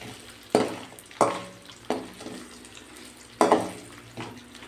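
Garlic fries in a pan over low heat, with five separate bursts of sizzle as it is stirred, each dying away before the next, close up and with no talk.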